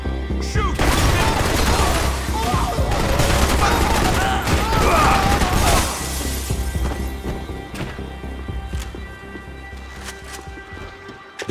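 Gunfire erupts in a Max Payne 3 shootout in a morgue: dense, loud bursts of shots with shattering and crashing debris, then the barrage drops off into sparse echoing shots and lingering room noise.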